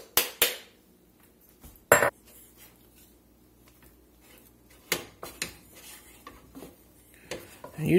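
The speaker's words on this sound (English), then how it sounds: "You just want to mix this around until all your flour is hydrated." Flour being stirred into a pot of hot liquid, heat off, with intermittent clinks and scrapes of a utensil against the pot and a few louder knocks between quieter mixing sounds.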